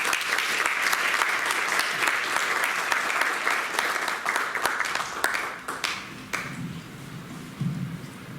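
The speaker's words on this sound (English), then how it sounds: "let's give A round of applause to Amiji." Loud, sustained applause from an audience at a university talk at Georgia Tech, dense clapping that tapers off into scattered claps near the end.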